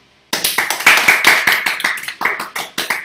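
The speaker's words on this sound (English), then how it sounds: "Listen for the applause." A meeting crowd bursts into applause after a digital marketing plan is presented, a dense run of hand claps starting abruptly and holding steady and close for about three seconds.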